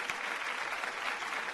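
Studio audience clapping for singers on a Marathi television singing competition, a brief burst of steady, even applause at moderate loudness with no voices over it.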